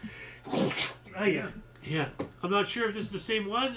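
A single sharp sneeze bursts out early, then people talk over the rest of the moment.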